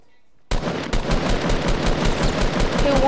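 Sustained rapid gunfire bursts in a video game, loud and continuous after a brief quiet start, dense crackling shots layered close together.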